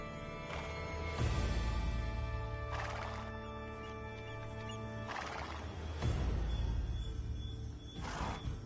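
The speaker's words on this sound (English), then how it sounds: "Yuan Shao keeps many horses in this paddock" Horses in an Age of Empires 2 paddock neigh and whinny repeatedly, several loud shrill calls spaced a few seconds apart over a low rumble of hooves, with no talk.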